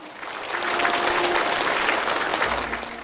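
Applause rises to welcome a bride and her father at a wedding ceremony: a dense, steady wash of many hands clapping, fairly loud and sustained for about three seconds, with no voices over it.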